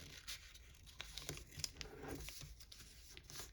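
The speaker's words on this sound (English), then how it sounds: "squash fold them" Paper creased and squash-folded while making an origami fighter jet: quiet, scattered crinkles and soft crisp ticks of handled sheet, close and faint, with no talking.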